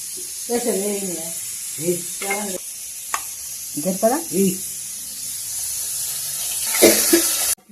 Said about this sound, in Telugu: ఇప్పుడు ఎర్రగడ్డలు బాగా ఎర్రగా వేయించుకోవాలి